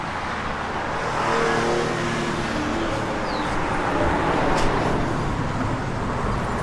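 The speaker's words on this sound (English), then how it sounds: "Good sounding Flowmaster X-Pipe dual exhaust system on it." A 1992 Ford Mustang LX with a Flowmaster X-pipe dual exhaust and Mickey Thompson ET Street tires rumbles steadily at idle or low revs, a loud continuous engine drone with no talking.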